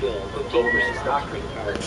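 A cat meows in short, mid-pitched calls repeated over about two seconds, close and fairly loud, with a person talking over the sounds.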